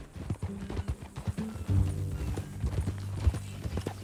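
Horse hooves clip-clop in Red Dead Redemption 2, a brisk rhythmic stream of close, hollow hoofbeats with faint snorts and a low whinny mixed in, heard without speech.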